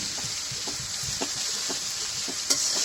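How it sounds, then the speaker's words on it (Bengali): A spatula scrapes and stirs turmeric and salt through hot oil in a pan, making a series of rhythmic scraping strokes over a steady, fairly loud sizzle, with no voices. "খুন্তি দিয়ে সুন্দরভাবে একটু নাড়িয়ে নিই হলুদ আর লবণটা লাড়ের সাথে মিশিয়ে নিলাম"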